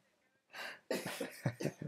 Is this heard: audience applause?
no